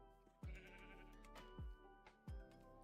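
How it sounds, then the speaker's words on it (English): Sheep bleating in a video game, three distinct wavering bleats spaced about a second apart over a steady low background hum, fairly close and clear. "Hello, sheep."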